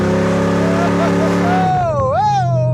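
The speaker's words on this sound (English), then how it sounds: "Sounds like a race truck. It's so loud." Chevy S10 truck engine roaring loudly while driving, a steady heavy drone that shifts and climbs in pitch as it revs, close up, with a voice talking over part of it.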